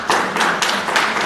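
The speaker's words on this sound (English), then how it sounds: "Can you clap now?" People clapping at a school board meeting in Scarborough, Maine, a brief burst of several hands with rhythmic, evenly spaced claps, fairly close and loud.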